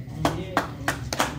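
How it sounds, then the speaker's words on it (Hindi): A few loud hand claps ring out at an irregular pace, roughly four sharp smacks close by, with talking in the background underneath them. "ताली बजाते खुशी कर दो"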